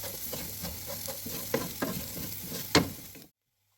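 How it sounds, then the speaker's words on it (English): A spoon works through broad beans and dill in a cooking pot for Iranian baghali ghatogh, giving a soft continuous scraping and sizzle with a few sharper clinks against the metal before cutting off abruptly. "And again give it a good stir."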